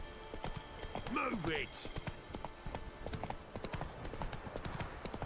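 The horse Roach gallops in The Witcher video game, a close, fast run of hoofbeats with a brief neigh. Someone speaks over the hooves.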